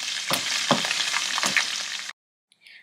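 Onions sizzle loudly in hot oil with hing and curry leaves in a pan for vegetable rice, a close, bright frying hiss with a few stirring scrapes before it cuts off abruptly.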